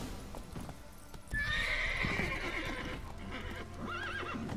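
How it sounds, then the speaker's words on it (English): A horse in The Witcher video game, hooves clip-clopping as a loud whinny rises and falls across the middle, then a second shorter neigh near the end over soft game ambience. "Calm the wild horse by using the Axii sign, then mount it."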